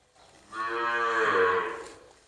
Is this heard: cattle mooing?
yes